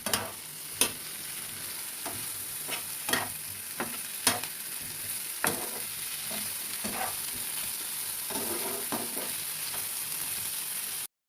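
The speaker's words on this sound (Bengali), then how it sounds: "এবার আলুটা দিয়ে ভালো করে কষা করে নেব।" Boiled potatoes sautéed and stirred in a pan for egg curry, a steady sizzle broken by a handful of sharp spoon scrapes and knocks against the pan, close and fairly quiet, with no talking.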